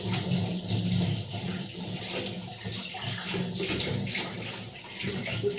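Tap water runs steadily into a kitchen sink during cleanup, a continuous close splashing rush with no talking over it.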